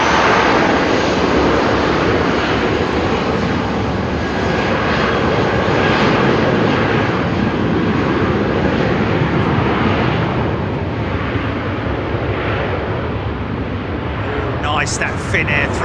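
A Finnair Airbus A350 jet at London Heathrow Airport gives a loud, steady roar of engines that fills the whole stretch, with a faint high whine near the end.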